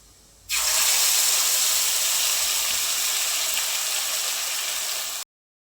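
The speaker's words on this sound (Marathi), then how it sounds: "आता जे वाटण केलं होतं आपण मसाल्याचं ते याच्यामध्ये टाकून घेऊ" Ground spice paste hits hot oil with cumin for a cashew curry, a sudden loud sizzle that starts abruptly, holds steady for about five seconds, then cuts off, with no speech.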